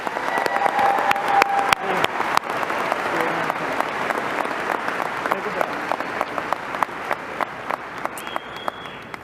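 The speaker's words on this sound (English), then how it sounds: "Please give them a round of applause." Audience applause fills a graduation ceremony for the Eastmont Class of 2025, a steady wash of many hands clapping with sharp individual claps popping out, holding for about nine seconds without tapering off.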